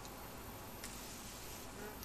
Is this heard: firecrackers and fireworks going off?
no